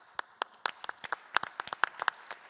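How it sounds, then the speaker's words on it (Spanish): Sparse applause from a small audience at a panel debate, a dozen or so distinct sharp claps at uneven intervals, close and fairly crisp, with no speech over them. "un aplauso para ustedes"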